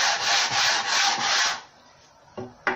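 A wooden cutting board being sanded by hand with 60-grit sandpaper, loud rhythmic rasping strokes that stop abruptly halfway, followed by a few faint knocks.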